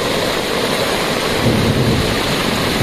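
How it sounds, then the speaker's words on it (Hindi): Heavy monsoon rain pours down steadily beside a flooding river as a dense, hissing roar, with a low rumble swelling partway through. "दोबारा फिर आ गई ये बारिश"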